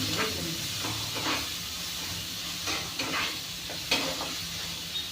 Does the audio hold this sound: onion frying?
yes